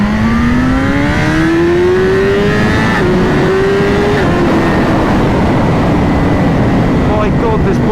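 A BMW HP4 motorcycle engine revs hard during a ride. The pitch climbs and shifts through gears, loud and continuous, with steady wind roar underneath.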